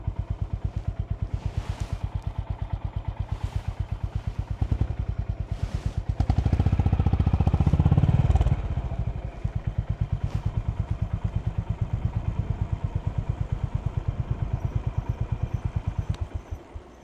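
A motorcycle engine thumps in a rapid, even idle-like pulse as the rider looks for parking in Kamō, Japan, swelling into a louder rev for a couple of seconds before settling back to its steady putter.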